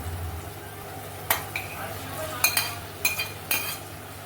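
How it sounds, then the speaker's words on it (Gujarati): Whole onions are dropped into thick gravy in a pan, a few separate clinks and clatters over a quiet low simmer. "તો હવે આપણે એમાં એડ કરીશું ડુંગળી"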